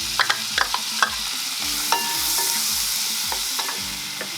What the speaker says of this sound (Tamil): இப்போ நான் இதில் வெங்காயம் சேர்க்குறேன்.